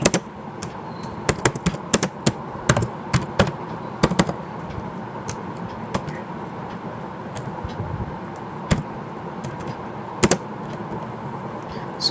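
Python code is typed on a computer keyboard in a quiet room: sharp key clicks come in uneven bursts and pauses, close and fairly soft.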